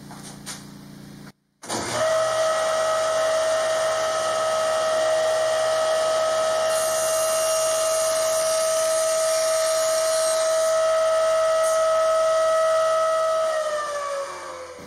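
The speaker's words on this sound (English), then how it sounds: "I'll do this piece with a table saw" A table saw cuts a taped piece of Formica laminate: a loud, steady motor whine holds for about twelve seconds, then dips slightly and winds down at the end.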